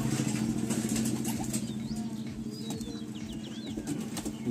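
A Madrasi pigeon at a Kolkata loft flaps its wings in a sustained fluttering burst, with low cooing and other birds calling around it and faint traffic in the distance.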